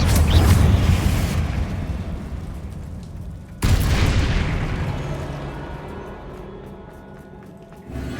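A Confringo spell exploding in Hogwarts Legacy during a fight with spiders: two loud booming blasts, each decaying into a long rumbling tail, with no talk over them.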